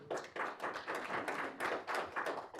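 Audience applause at a Hudson Institute conference event on antisemitism, a dense steady clapping from a crowd, fairly faint and continuous.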